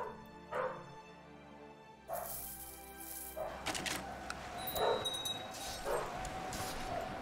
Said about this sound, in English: Sorry if you can hear dogs in the background.